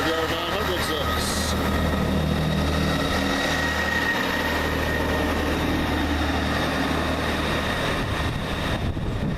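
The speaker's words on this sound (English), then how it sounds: "That's 158851 departing Ashington for Newcastle" Diesel multiple unit 158851 pulls out of Ashington station on the Newcastle service, a steady, loud low engine rumble with broadband rolling noise filling the whole stretch.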